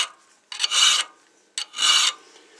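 A hand file rasping along a steel knife blade to shape its profile: two long, harsh scraping strokes separated by short pauses, close and loud, with no talking.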